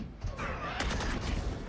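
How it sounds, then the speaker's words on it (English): Gunfire in the esports match Valorant, a dense burst of overlapping shots from both sides in a continuous fusillade lasting the whole moment, loud and busy with faint game sounds beneath. "A lot of the gunfire exchange on either side here."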